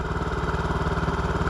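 A 2006 Honda 2hp outboard motor runs steadily close by, a rough, evenly pulsing engine drone with no change in speed.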